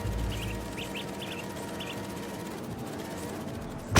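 A bird quacks in a short run of clipped, duck-like calls in Marvel's Spider-Man 2, five or six quick quacks in the first two seconds over a steady low game ambience, then only the ambience.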